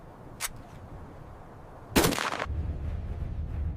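A robot fires a gun in a military combat exercise: a sharp single crack, then a louder, longer blast that rings into a rumbling tail.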